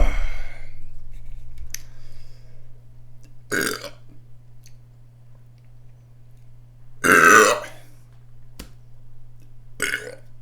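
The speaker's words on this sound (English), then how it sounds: "I can't burp like I used to" A man lets out several loud, throaty burps spaced a few seconds apart, each a short rough croak, with the longest near the middle, over a faint steady hum.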